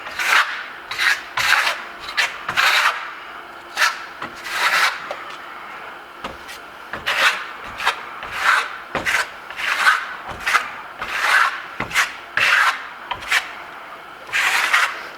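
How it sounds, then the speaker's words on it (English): A trowel spreads a thin coat of lime-based metallic Venetian plaster in repeated rasping, rubbing strokes, each a short swipe with brief pauses between, close and fairly loud with no talk. "So let's get troweling it on, right?"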